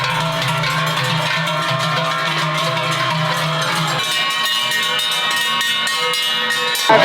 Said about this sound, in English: The families and their cattle have finally arrived, along with the chaotic sound of their bells.